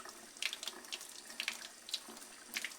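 A kitchen sink sprayer hisses water over a JJC water-resistant SD memory card storage case (MC-SDMSD24), a steady splashing spray with brief louder bursts as the case passes back and forth under it, close and fairly quiet, with no talking.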